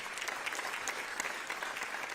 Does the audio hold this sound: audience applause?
yes